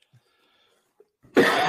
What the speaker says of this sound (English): You're gonna have to put up with my coughing every once in a while